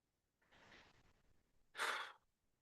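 A deep, forceful exhale during a yoga breathing flow, preceded by a softer breath; one strong, close, airy rush of breath stands alone in quiet.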